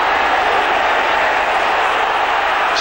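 Football crowd at a 1988–89 Coventry City match, a loud, steady roar of cheering and applause that stays at an even level throughout, with no talk.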